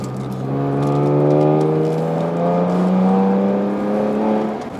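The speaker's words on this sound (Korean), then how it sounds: "이 차 배기도 튠이 되어 있습니다. 배기음이 이 우렁차네요." Tuned exhaust of a Genesis G70 sedan with a 3.3 V6 turbo, pulling hard under acceleration: a loud, steady engine drone that climbs in pitch for nearly five seconds, close to the listener and with no talking.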